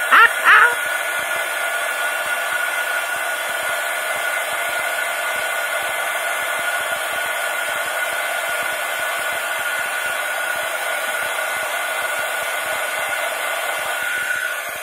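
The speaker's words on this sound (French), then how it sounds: "Vous noterez que j'ai tenu mon pistolet à chaud assez loin de la bougie." A heat gun blows over a wax candle to dry it, a steady whooshing hiss with a whining tone that stays even throughout, preceded by a brief clunk as it starts.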